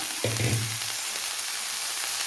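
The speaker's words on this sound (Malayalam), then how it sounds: "പൊട്ടി വരട്ടെ. കടുകും ഒരല്പം ഉള്ളി ഇട്ടു." Mustard seeds and a little onion splutter in hot oil in a pan for a taro-leaf thoran, starting with a sharp burst of crackle and pops and then settling into a steady, fainter sizzle.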